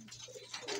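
Pigeons coo softly nearby, a brief low murmuring call with a faint rustle, quiet and without talking.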